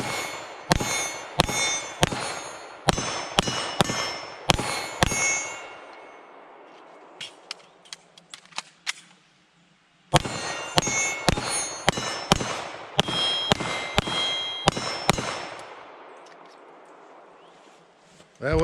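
A Canik Rival-S 9mm steel-frame pistol fires in two rapid strings of about ten shots each, with sharp reports and bright metallic rings as rounds strike steel targets, and a brief pause between the strings.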